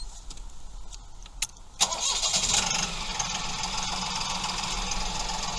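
Mahindra 2555 tractor engine heard up close, a few clicks and a sharp catch before the engine rises into a steady, loud running rumble with a hissing top that holds through the rest.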